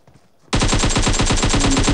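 Rapid automatic gunfire from the PUBG Mobile battle royale game starts abruptly after a brief quiet moment. It becomes a loud, continuous burst of evenly spaced shots that sounds close by.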